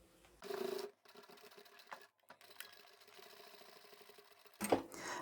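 Sewing machine stitching the lining of a crossbody bag, running in several bursts of rapid mechanical chatter with brief pauses between them, close and fairly loud.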